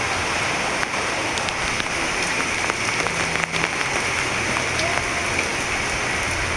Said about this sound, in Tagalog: So, ang ulan. Umuulan.